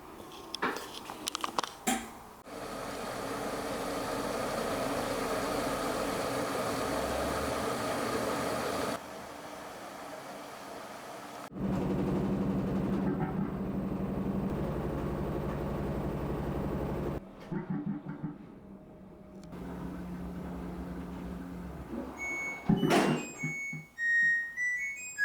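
A washing machine starts a wash cycle using rainwater from an underground tank, with clicks and thunks followed by long stretches of rushing water and motor hum, then further clunks and a few beeps near the end.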